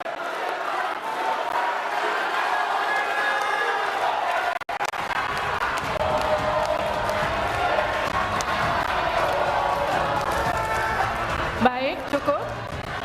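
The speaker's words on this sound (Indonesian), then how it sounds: "Berikan aplaus dan apresiasi untuk 3 calon wakil presiden" A studio audience at Indonesia's 2024 vice-presidential candidates' debate claps and cheers in a dense, sustained roar that continues for many seconds.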